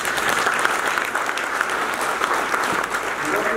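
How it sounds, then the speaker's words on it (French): An audience applauds the director at a ceremony launching WHO activities, giving steady, loud, dense clapping that carries on throughout with no break. "Je voudrais qu'on l'acclame encore une fois."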